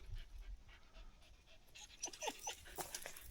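A dog pants quietly in quick, rhythmic breaths, faint and close, with the panting growing slightly more distinct toward the end.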